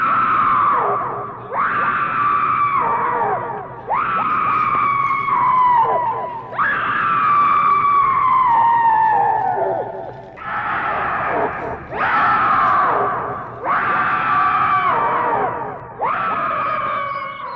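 A cartoon boy screams in fear, a series of loud, drawn-out shrieks with short gaps between them, each cry sliding downward in pitch, repeated about eight times.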